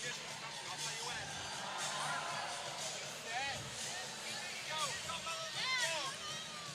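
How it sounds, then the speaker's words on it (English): Crowd noise swells at a women's college volleyball match between Iowa and Penn State as spectators do the wave, a broad, steady roar of voices with rising whoops and cheers, under an announcer's talk. "See the crowd getting into it now."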